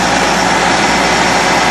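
A concrete pump truck engine runs at a foundation repair job, a loud, steady, broadband roar with a heavy low rumble, close and continuous with no talk.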